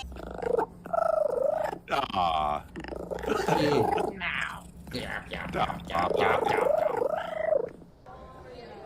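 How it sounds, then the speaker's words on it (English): A cat gives an odd, throaty purring meow: a run of warbling, rising and falling vocal sounds that is close and fairly loud, with a short human exclamation partway through. "I love that weird purr meowing."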